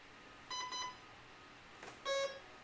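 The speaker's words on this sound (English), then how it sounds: "Now it should go beep beep." An electronic speed controller for a radio-controlled model emits faint, high, clear beeps during throttle calibration: a quick double beep, a pause, then another pair of tones.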